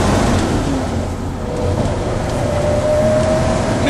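A 1971 Hemi Cuda engine runs close by, a loud, steady low rumble with a faint whine rising partway through, no voices.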